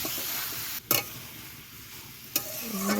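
A spoon scrapes and clatters in a pan of cauliflower frying over steady sizzle, with two sharp knocks against the pan's edge.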